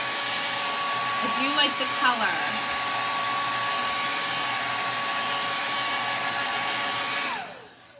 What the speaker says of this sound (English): I'm gonna hit this with a blow dryer.